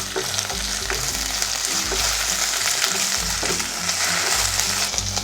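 Onions, green chillies and curry leaves fry in a pan for spinach rice, giving a loud, continuous close-up sizzle broken by repeated scraping strokes of a stirring spoon, with no talking.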